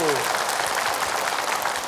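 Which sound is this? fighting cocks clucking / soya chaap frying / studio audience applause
studio audience applause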